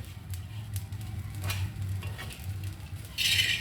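A spiced prawn powder mixture sizzles lightly in a pan while being stirred, a steady soft fry with scraping strokes and a brighter metallic clink near the end.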